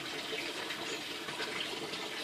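Water pours steadily into an aquaponics grow bed a couple of minutes before its auto siphon fires, a constant close trickle and gush with no voices.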